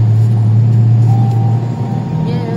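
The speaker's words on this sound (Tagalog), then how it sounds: "Gabi na, traffic pa rin." Night road traffic on a congested city road, with a steady low engine rumble from slow-moving cars and vehicles close by, continuous and loud throughout with no talk.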